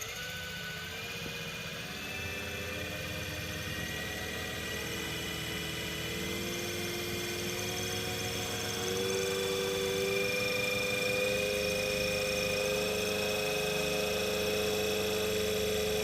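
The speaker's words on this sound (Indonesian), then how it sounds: "pertama kita putar generator sinkron dengan kecepatan" A synchronous generator in a lab runs at 1500 rpm, giving a steady, continuous electrical hum with layered whining tones that rise slightly and grow a little louder partway through, with no talk.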